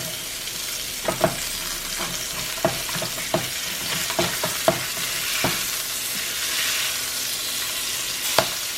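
Salmon fries skin-side down in a hot pan for Cajun alfredo pasta, giving a continuous crackling sizzle broken by scattered sharp pops and spatula taps.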